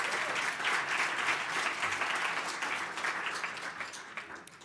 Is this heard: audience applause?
yes